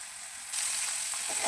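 Cashews hit hot oil in a pan during fried-rice cooking, bringing a steady close sizzle that grows louder about halfway through and carries on without a break, with no talking.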